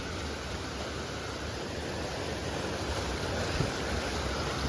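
Rainwater runs over a road as someone wades through it, a continuous broadband rush of flowing water with a faint thud near the end, steady and fairly close.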